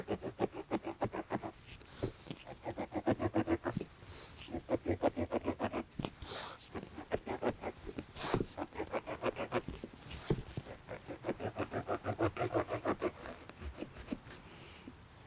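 A carving tool saws through a pumpkin with rapid, rhythmic scraping strokes that run almost without a break, close and crisp, short pauses between runs and no voices.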